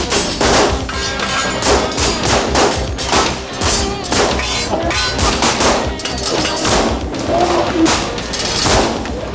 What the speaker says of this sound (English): Now let's take a look at what's going on in the pistol shoot-off